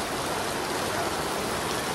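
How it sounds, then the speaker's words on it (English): Heavy tropical rain in Jamaica pours down on an umbrella overhead, a dense, steady hiss of drops that is close and loud and continues without any speech. "It's like a tropical rain."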